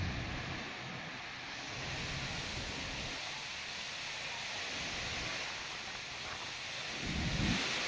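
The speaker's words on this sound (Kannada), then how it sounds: "ಇದೆಂತ ಬೈಂದೂರು ಮಳೆಯ." Heavy monsoon rain pouring down in Byndoor, Udupi, a dense continuous roar of rainfall that swells and eases, with a louder gust of downpour near the end and no voices.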